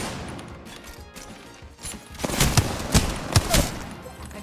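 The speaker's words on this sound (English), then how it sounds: "Holy shit, those two shots were insane." Gunfire in Apex Legends during a one-on-one fight, a cluster of sharp loud shots and thudding impacts in quick succession over a busy background of game noise.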